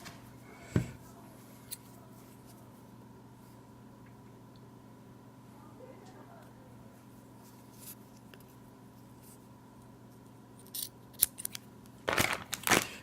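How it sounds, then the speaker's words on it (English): Scissors snip through rubber bands for a pot holder craft, giving a couple of sharp, faint clicks amid quiet room tone, with a cluster of crisp snips near the end. "we're going to cut one of these rubber bands in half"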